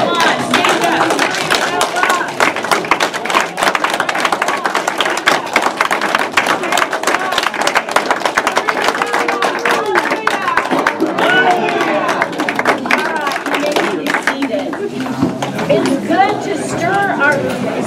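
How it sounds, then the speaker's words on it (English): Workplace audience on their feet clapping hands at a staff gathering, a steady dense patter of many claps mixed with chatter and thumps, continuing loudly throughout with voices heard over it. "Stand up and clap your hands."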